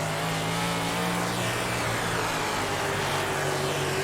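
A dirt race car engine from World of Outlaws Dirt Racing 24 drones loudly and continuously, its tone wavering slightly as the car moves through the corners.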